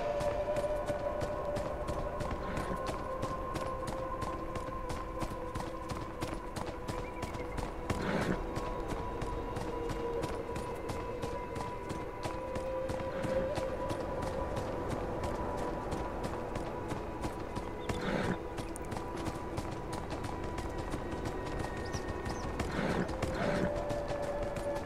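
Horse hooves in the video game Beyond Two Souls, on Navajo land, a steady clip-clop of walking hooves running throughout, with a few louder knocks and a sustained tonal music bed underneath.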